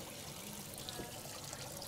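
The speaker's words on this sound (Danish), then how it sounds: "Og prøv at se, når jeg hælder vand i det her kar." Water poured into a tub filled with gravel and small pebbles gives a steady, close trickling and splashing wash that runs continuously without pause.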